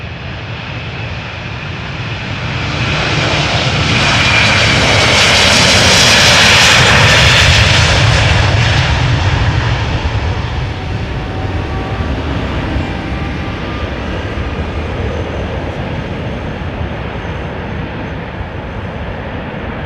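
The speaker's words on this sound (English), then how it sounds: "This is Delta Airlines Flight 143, yet another Delta A330-300, this one going to Seattle" Delta Air Lines Airbus A330-300 jet departing Amsterdam Schiphol: a loud, sustained engine roar that swells to a peak near the middle and then eases into a steady rumble, with no talking.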